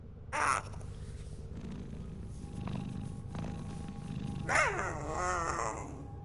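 Cats are petted in the video game Warframe, giving rough, growly purring and croaking cries in two distinct bursts over a low rumbling background, with no talk.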